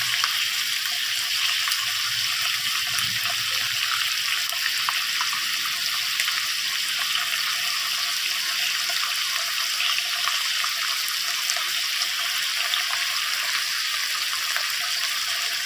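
Water added to a pan of chop suey with pork and pork fat, a steady broadband pouring and sizzling wash that runs unbroken and fairly loud throughout, with no talk.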